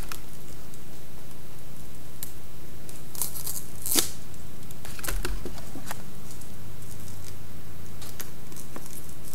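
Plastic shrink wrap being torn open on a packet, a series of close crinkly rips and scratches, a few sharp bursts among quieter rustling over a steady low hum.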